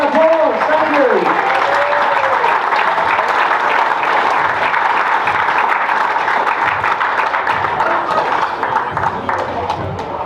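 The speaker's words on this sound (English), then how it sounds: "Please come up and give Steve Mackie a round of applause." A dinner audience at a bowlers' reunion applauds hall-of-famer Steve Mackie, steady dense clapping filling the room for ten seconds, with voices and cheers mixed in at the start.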